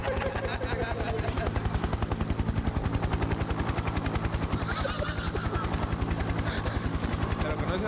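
A helicopter sound effect thuds with a fast, steady rotor chop, loud and continuous throughout, with faint higher noise riding over it.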